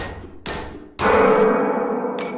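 Heavy thuds of a hammer banging on a door in a gardening video game: one dull knock, then a louder impact followed by a sustained ringing, booming tail.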